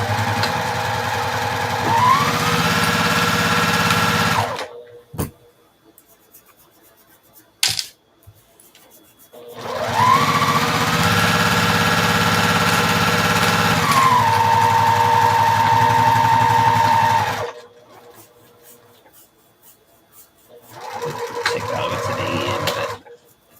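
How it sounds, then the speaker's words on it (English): A sewing machine stitches a quarter-inch seam with a backstitch, running in two loud, steady whirring stretches with a brief shift in pitch, separated by quiet pauses, then starting up again briefly near the end. "Again, a 1/4 inch seam. We're going to back stitch when we start."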